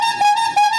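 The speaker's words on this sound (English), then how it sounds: "He just honks." A horn honking in a cartoon comedy: a sustained, bright tonal blare with a couple of short breaks and re-attacks, loud and close, with no talk.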